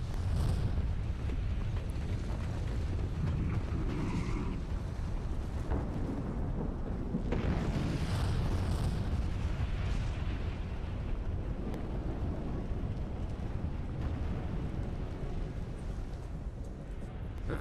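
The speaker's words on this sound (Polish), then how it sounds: "To był kulminacyjny moment całej erupcji, jeden z najgłośniejszych, jeśli nie najgłośniejszy huk, jaki usłyszeli mieszkańcy naszej planety" A deep, sustained roaring rumble with booming surges from the Krakatau volcanic eruption, a massive explosion rolling on continuously and very loud.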